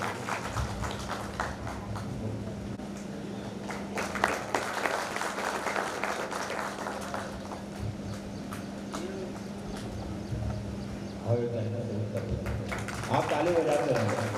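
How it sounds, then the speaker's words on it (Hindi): An audience claps steadily and continuously at a Hindu religious gathering, with a loud, dense patter of hands that keeps on under a voice speaking over a sustained hum. "आप ताली बजाते रहेंगे।"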